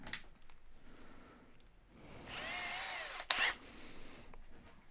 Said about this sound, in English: I will pre-drill with a